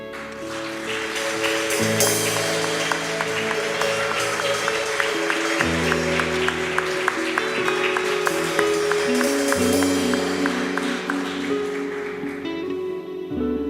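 Congregation clapping in a church during a worship service, steady applause layered over sustained music, fairly loud throughout and easing off near the end.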